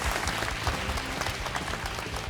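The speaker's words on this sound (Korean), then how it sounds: "우리 순위에 상관없이 다시 한번 격려의 박수 부탁드릴까요?" Audience applause for five presenters standing on stage at a televised crowdfunding event, steady and full from start to finish with no talk over it.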